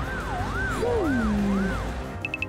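A wailing ambulance siren in a cartoon scene rises and falls steadily, loud and close, with a sliding tone over it and a few quick beeps at the end.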